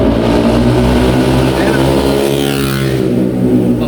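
Motorcycle engines roar loudly on a busy street near a hospital and fuel station, a dense continuous rumble with rising revs, voices talking over the traffic.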